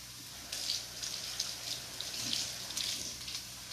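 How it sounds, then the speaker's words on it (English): Tap water runs into a kitchen sink while hands are washed between cooking steps, a faint soft splashing stream broken by brief gushes. "then I'll wash my hands again."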